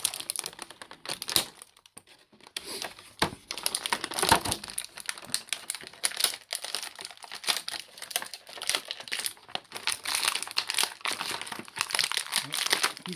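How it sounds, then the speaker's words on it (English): Rubber ties are snipped from behind the packaging to free a Classic Ghostbusters toy figure, giving close, busy crinkling of plastic with scattered sharp clicks and snips throughout, with no voices. "See if I can cut these rubber pieces from behind and make it easy as possible."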